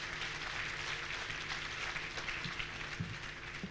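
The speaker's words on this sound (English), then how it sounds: "Let's give Mr. Chichi a big hand clap." Applause at an entrepreneurship conference, with a crowd clapping in a thick, even roar that holds steady throughout, fairly distant and without clear speech on top.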